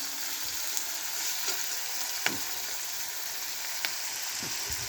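Whole cumin seeds fry in hot oil as a tempering for onion and pumpkin bhaja, producing a continuous soft sizzle broken by a few scattered pops and clicks.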